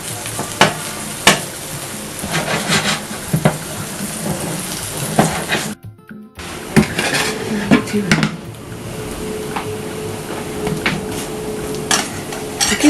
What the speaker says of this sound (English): You fry it gently on a low heat.